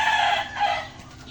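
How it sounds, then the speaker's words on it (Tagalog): A chicken clucks and calls loudly and close by in a short burst, fading slightly toward the end. "Sige, tutukain ka ng manok"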